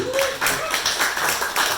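A small crowd at a stand-up comedy show in a Toronto pub claps in response to the comic, giving a loose, continuous patter of hands throughout with a voice briefly audible.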